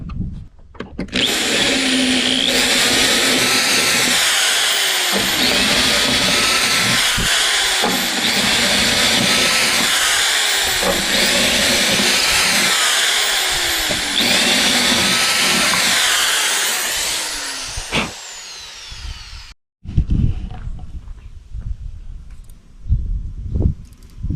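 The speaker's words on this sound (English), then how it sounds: "It's a 1-inch hole saw bit." A power drill with a 1-inch hole saw grinds loudly and continuously for about eighteen seconds while installing a diesel heater, its pitch wavering, then stops, leaving quiet handling noises.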